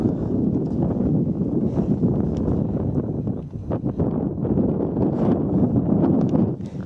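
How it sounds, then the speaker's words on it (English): Strong wind on a mountaintop on the Tanawha Trail buffeting the microphone, a steady low roar with gusty rumbles throughout and no voices. "Sure is windy up here."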